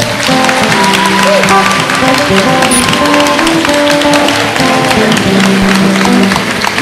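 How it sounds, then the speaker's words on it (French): A church congregation applauds and cheers together, a dense, loud, sustained wash of clapping with steady tonal music or voices running beneath it throughout. "On acclame le Seigneur."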